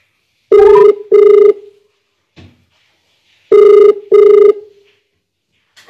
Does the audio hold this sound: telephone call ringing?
yes